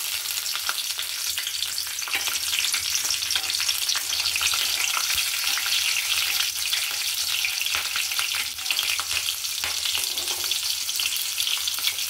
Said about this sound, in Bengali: এর মধ্যে আমি দিয়ে দিলাম কালো জিরে আর লঙ্কা